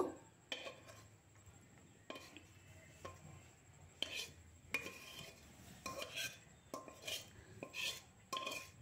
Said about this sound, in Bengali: এখন একটা থালার মধ্যে ঢেলে দেব।